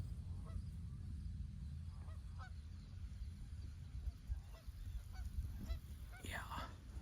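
Geese on open water give scattered soft honks and clucks, faint and intermittent over low rumbling wind noise during a hunt, with a sharper cluster of calls near the end.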